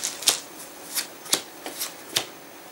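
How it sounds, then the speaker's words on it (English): A deck of event cards from a cooperative board game being shuffled by hand, a series of crisp riffling bursts about every half second, close and fairly quiet with no talk. "what we do with the event deck is shuffle it"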